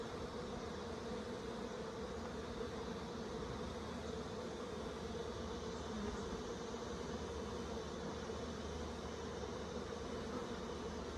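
Honeybees swarm an open, crowded hive, and their dense, steady buzz hums continuously and evenly at close range, fairly soft, with no voices.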